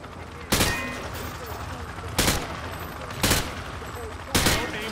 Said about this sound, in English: Just fire from the hip.